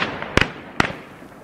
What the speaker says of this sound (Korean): 갑자기 총소리가 울려 퍼집니다.